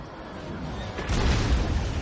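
Artillery fire strikes a Ragnarok unit in a Warhammer battle game, a quiet rumble that breaks into a louder, sustained booming burst midway through.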